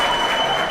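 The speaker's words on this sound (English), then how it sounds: "I'm going to give her a round of applause." A short, loud burst of clapping forms a dense wash of hand claps, close and steady for a brief moment.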